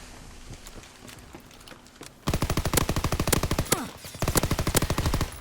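Rapid automatic gunfire from Call of Duty Black Ops 4, loud sustained bursts of evenly spaced shots after a quieter opening, with a short break before a second long burst.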